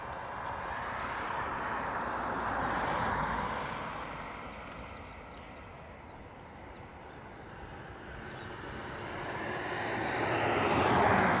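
An ATR turboprop airliner departing Dublin for Glasgow, its engine drone swelling, easing off, then rising again loud and near at the end, with no talking.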